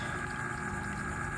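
A water pump runs in a homemade hydroponic vertical grow tower, giving a steady low hum with a soft watery gurgle, close and even across the short stretch.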